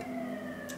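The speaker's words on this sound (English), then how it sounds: "We've got a lot of ambulances going by." Ambulance sirens passing by, a steady, fairly loud wailing tone held through the short moment with no talk over it.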